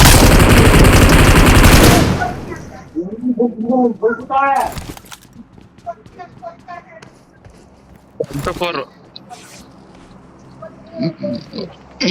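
Gunfire in a battle royale mobile game on the Rondo map: a loud sustained burst of rapid automatic fire at the start, then scattered single shots and footsteps, with players talking over the game sounds.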